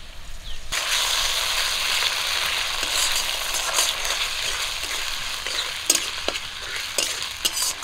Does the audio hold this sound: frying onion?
yes